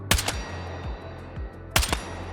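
Gunfire in Battlefield 6 on a tap-fired weapon: two close, loud bursts of a few sharp shots each, one at the start and one near the end, with single softer shots between them.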